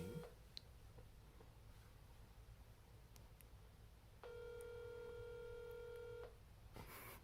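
A telephone call rings out with a steady electronic ring tone lasting about two seconds, after a few short beeps, against faint background hiss.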